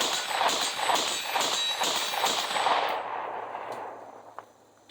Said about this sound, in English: I'm going to go ahead here and cut to some footage of me shooting this in low light